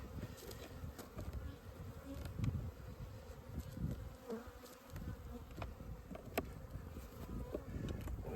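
Dense buzzing of many honey bees swarming around a hive during an inspection, a constant close hum with individual bees zipping past the listener.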